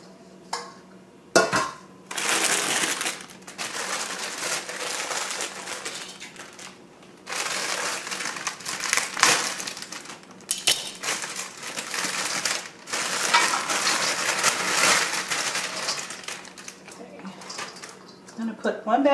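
Salad ingredients, bags of sprouts and cilantro, are tossed into a large bowl. Bursts of crinkling, rustling and soft crunching come in uneven stretches between quiet gaps, close to the microphone. A voice talks now and then.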